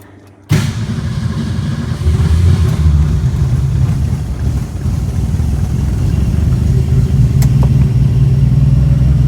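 A 1962 Ford Falcon engine cranks and catches with a sudden loud start, then runs at a steady, rough, rumbling idle close by, continuing without pause and with no talking.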